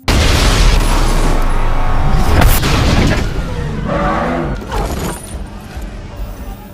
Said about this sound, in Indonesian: Dan saat akan memberitahu Silva, tiba-tiba terjadi ledakan pada mobil tersebut.